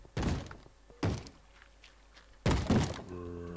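A wooden door in the Minecraft video game bangs shut three times, each a loud, abrupt thunk separated by short pauses, with no talking over it.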